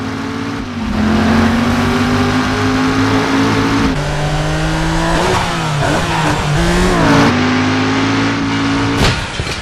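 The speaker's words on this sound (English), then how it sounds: "We're going to get straight into a car chase between John Tanner and Jericho" Video game car chase through San Francisco streets, engines revving loud and continuous with gear shifts and rising pitch sweeps, close and alone without talk.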